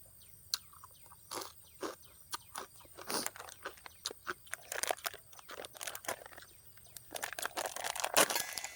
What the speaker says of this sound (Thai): ฟังเสียงครับแคบหมูกรอบครับ